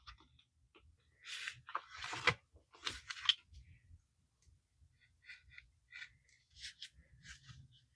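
Scissors cutting a sheet of planner paper in half, quiet close snips and paper rustles in uneven bursts, with soft faint sounds between cuts.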